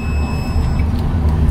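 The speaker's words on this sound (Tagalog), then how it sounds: "pag nag-buzzer, ibig sabihin isang connection" A connection tester's buzzer, used while charging batteries wired in series, gives a thin steady electronic tone for under a second over a low background hum.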